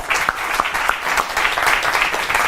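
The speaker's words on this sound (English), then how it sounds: "Let's give Eric a round of applause" An audience at a magic performance claps for a volunteer coming up on stage, a dense burst of close applause with individual sharp claps standing out throughout.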